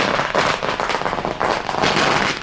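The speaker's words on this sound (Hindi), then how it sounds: "ये देखिए पटाखे जलाकर खुशी जो है जाहिर की जा रही है।" Supporters celebrating an election win set off firecrackers, and a dense, rapid string of sharp crackling bangs bursts out close and loud.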